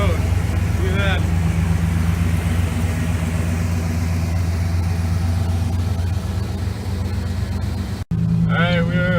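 A Ford Flareside pickup with a swapped carbureted 5.0 V8 rumbles steadily at low speed on a road, a constant deep engine drone heard from inside the cab, with someone speaking briefly at the start and end.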